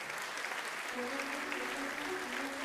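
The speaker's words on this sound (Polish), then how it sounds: "Publiczność szaleje, krzyczy i bije brawo." A studio audience at the Polish game show Milionerzy applauds and cheers for a new millionaire winner, with dense, steady clapping at close range that fills the whole stretch and a faint tone running underneath.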